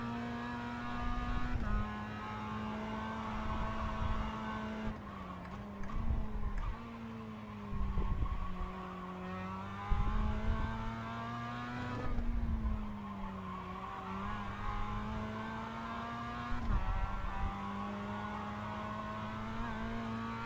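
A Mazda MX-5 race car in the iRacing game drives hard, its engine droning and rising and falling through gear changes and corners, with repeated tire squeals and skids, loud and close throughout, with no talking.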